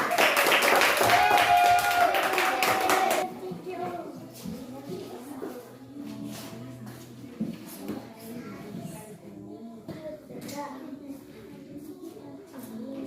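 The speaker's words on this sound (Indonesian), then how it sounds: "tepuk tangan untuk teman kita" Children in a classroom clap for a classmate in a dense burst of applause lasting about three seconds, then quieter room chatter and shuffling follow.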